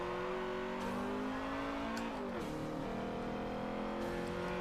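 A 1963 VW Beetle engine in the Forza 7 racing game drones at moderate level, its pitch sagging and bogging down briefly midway before steadying again.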